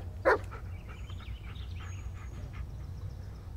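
Bullet, a dog in the Blair Witch video game, gives a short burst of barking near the start, then only a low steady ambient background follows.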